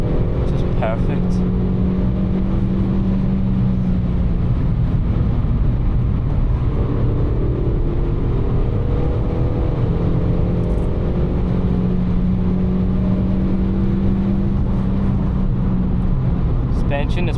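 Suzuki Swift Sport hatchback driving along, its engine droning steadily with gear whine and road rumble, a person talking over it throughout.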